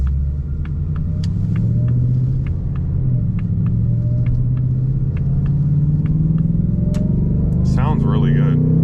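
Engine of a 2024 Ford Mustang RTR Spec 3 while driving, a steady low rumble that holds loud and continuous with faint ticking above, heard from inside the rear-wheel-drive car.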